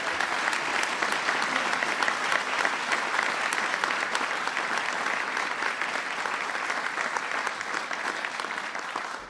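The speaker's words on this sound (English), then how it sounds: "Please give him a big round of applause." An audience at a Diwali observance applauds in steady, dense clapping that holds for several seconds and tapers slightly at the end.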